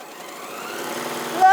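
An Elna 720 PRO sewing machine revs up to full speed in a steady, rising mechanical whir, close and continuous with a brief louder burst at the end.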